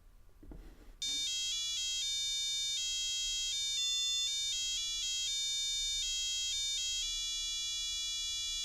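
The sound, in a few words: Arduino buzzer playing notes of a melody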